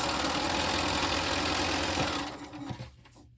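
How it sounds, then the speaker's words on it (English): A sewing machine chain-pieces scrappy quilt squares in a steady, loud mechanical whir. It runs continuously, then slows and stops, leaving near silence. "So I'm going to keep on sewing these"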